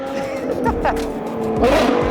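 A loud, rasping engine roars continuously from a Ferrari 812 with a Novitec sports exhaust, revs climbing and falling as the car draws near, tires squealing briefly.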